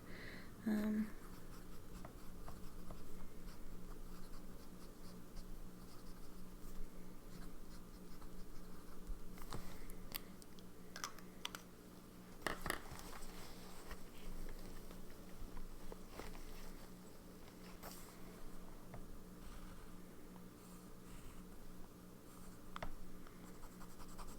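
An extra fine fountain pen nib writes on paper, a faint, steady scratching that runs almost continuously and is close to the microphone.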